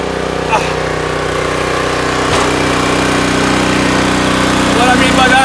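A log splitter's motor drones steadily and loudly close by, a continuous engine hum with a faint knock partway through and a voice in the background.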